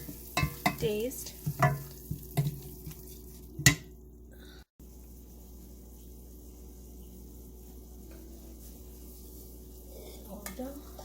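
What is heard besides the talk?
masala sizzling and being stirred in a pan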